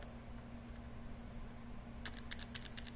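Keys tapped on a Fujitsu Q572 tablet's keyboard during a CentOS 7 Linux install: a quick burst of close, crisp clicks in the final second, over a steady low electrical hum.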